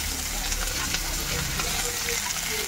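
Onion, garlic and green chillies fry in a pan for noodle cooking, giving a steady close sizzle with light stirring scrapes throughout.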